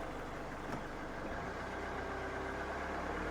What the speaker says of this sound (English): with the engine running, we'll just give it a blip at the throttle